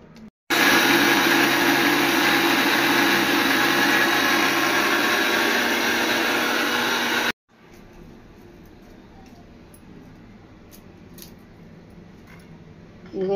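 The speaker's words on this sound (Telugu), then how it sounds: "ఇంకా కొంచెం వాటర్ పోసి రుబ్బుతాను" A kitchen mixer grinder runs loud and steady while grinding a wet batter with added water, then cuts off abruptly, leaving quieter room noise and faint clatter.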